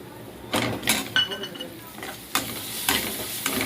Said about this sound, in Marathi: मी थोडंसं आपल्याला चांगलं परतून घ्यायचा हा मसाला